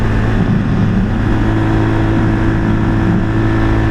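A 1978 Kawasaki KL250 motorcycle with a newly installed carburetor cruising steadily down a road near 70 mph, its engine a loud, constant drone with a low buzzing hum and wind rush throughout, no voices.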